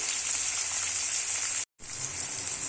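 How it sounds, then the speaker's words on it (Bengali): Cauliflower pieces fry in a pan in small batches, a steady, loud high sizzle and crackle that runs unbroken, cuts out briefly near the end, then resumes. "আমি ফুলকপিটা অল্প অল্প করে ভাজবো"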